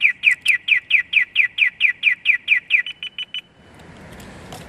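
An Audiovox AA940 alarm fitted on a Honda Ruckus scooter chirps in a fast, loud series of about fifteen evenly spaced electronic pulses close by, then stops abruptly, leaving faint background noise.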